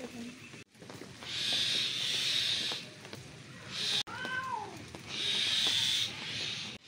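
Cats yowl and hiss in a tense standoff after rain, long drawn-out wails rising and falling with a few sharp rising cries, fairly close and outdoors.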